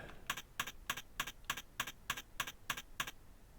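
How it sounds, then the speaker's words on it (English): Keyboard typing in the old computer game Space Quest 2, about ten evenly spaced, crisp keystroke clicks in quick succession, quiet and alone with no voices. "Type on keyboard."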